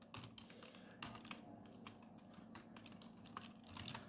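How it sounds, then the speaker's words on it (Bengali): Typing on a computer keyboard: a quick, irregular run of soft key taps, close and faint, with brief pauses between bursts and no talking. "তো এইভাবে আপনি বারবারে এই লেখাটি টাইপ করবেন।"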